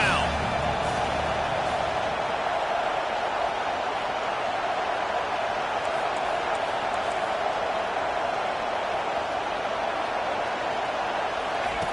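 Stadium crowd noise in the Madden 22 football video game, rising on a third-down defensive stand, a dense, loud, continuous roar that holds steady throughout without any break.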